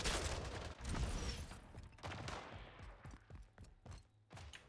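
Sharp shots crack in a Splitgate arena match, widely spaced single reports and short bursts at moderate volume with clear gaps between them and no talk.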